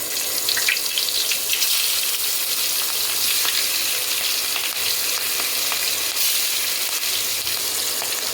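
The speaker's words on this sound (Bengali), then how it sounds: "এবার বেগুন ভাজার তেলে মাছগুলো দিয়ে দেবো" Hilsa fish frying in oil left over from frying eggplant, a steady dense sizzle and crackle that runs loud and unbroken throughout with faint clinks, no voices.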